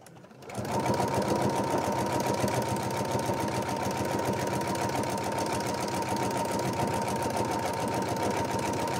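A sewing machine stitches a fabric bauble cushion, running at a steady, fast, even hum close by for about eight seconds without a break.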